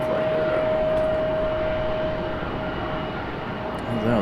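A Sun Country airliner turns near Raleigh Durham International Airport, heard as a steady, broad engine roar with a faint tonal whine, distant and continuous.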